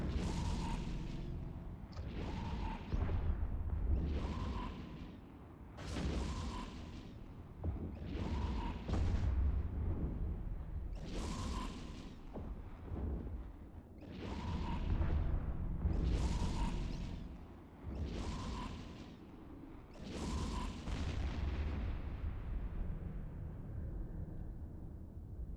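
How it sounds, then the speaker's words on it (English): Cruise missiles, heavy missiles and torpedoes fire in Eve Echoes as a steady series of about a dozen whooshing launch bursts, each swelling and fading every couple of seconds over a low rumbling bed, fairly faint. "It is just cruise missiles, heavy missiles, and torpedoes."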